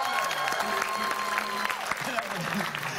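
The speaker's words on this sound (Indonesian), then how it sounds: "Tepuk tangan." A studio audience and hosts applaud during a lighthearted guessing game on an Indonesian entertainment show. The clapping is moderately loud and is mixed with voices and background music that continue under it for three seconds.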